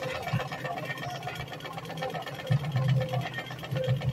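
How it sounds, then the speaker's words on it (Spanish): A vintage Kenmore 117.841 sewing machine stitches a decorative pattern with a steady mechanical hum and rhythmic needle clatter that grows louder and faster partway through. "Aquí ya queda haciendo la puntadita decorativa del número 1"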